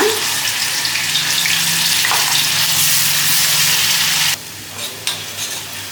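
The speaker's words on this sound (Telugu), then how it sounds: "ఇది ఆయిల్లో కొంచెం బాగా మగ్గాలన్నమాట" A paste of onion, coriander seeds, cumin and ginger-garlic fries in oil for a fish curry, sizzling loudly and continuously up close before the hiss suddenly drops to a quieter bubbling near the end.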